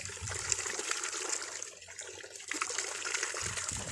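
Mountain spring water flowing and gushing steadily at a spring in the Philippines, a continuous close, fairly quiet rush and trickle with no talk.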